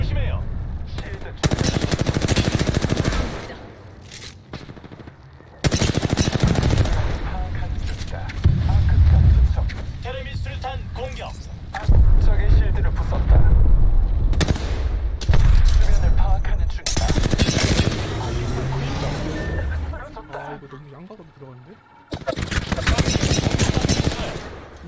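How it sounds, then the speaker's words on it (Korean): Automatic weapon fire in the battle royale game Apex Legends, long loud bursts of rapid shots separated by short pauses, close by and repeated across the stretch, with voices talking between and over the volleys. "멍청이들이 날 쏘고 있다"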